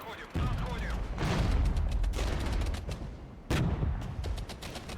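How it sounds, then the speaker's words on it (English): Automatic grenade launcher and machine gun fire from a Regiments war game, heard as dense, continuous bursts of rapid shots and booms with two sharp, louder surges partway through. "The fire supports have more auto grenade launchers, more machine gunners."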